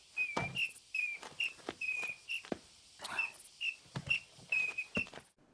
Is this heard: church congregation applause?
no